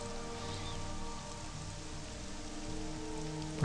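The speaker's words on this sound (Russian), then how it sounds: "Такой мерзкий дождик." Steady soft rain in the game Morrowind, a faint even patter on surfaces running continuously beneath a low tonal ambient music bed, no voices.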